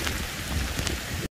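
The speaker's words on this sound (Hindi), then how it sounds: "बारिश अलबत्ता जो है ना शदीद है" Heavy rain pours down steadily in a Punjab village in Pakistan, a dense, close hiss with a cold wind blowing, and no voices.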